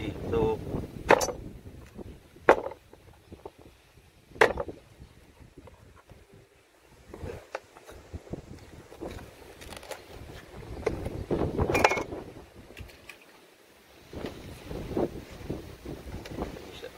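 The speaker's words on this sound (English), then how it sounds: "It's very, very windy" Gusty wind buffets the microphone in loud rumbling bursts, with faint voices and water movement underneath.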